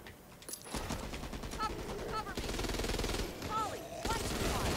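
Automatic gunfire in the co-op shooter Back 4 Blood, rapid dense bursts of shooting filling most of the clip with short pauses between volleys, loud and close, with game sound effects mixed in.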